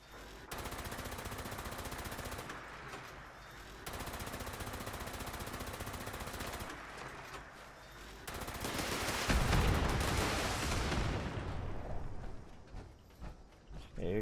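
Gunfire in Fallout 76 comes as two long sustained bursts of rapid automatic fire, followed by a louder, denser volley that trails off into scattered shots and impacts, with no voices.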